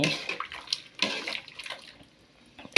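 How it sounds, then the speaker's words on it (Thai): Tamarind water poured into a pot of Thai sour curry (kaeng som) being made with large fried fish, a soft splashing liquid pour in short bursts, close and moderately quiet with no talking. "ใส่น้ำมะขามเปียกลงไป"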